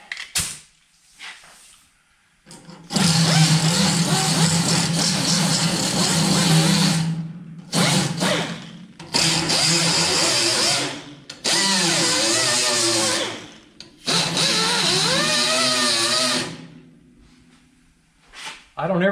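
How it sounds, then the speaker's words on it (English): Grinder working sheet metal on the firewall of a 1955 Chevy, several loud sustained bursts of high whining grind separated by brief pauses, close by, with a voice briefly in the gaps. "I'm going to cut loose grinding on this real quick."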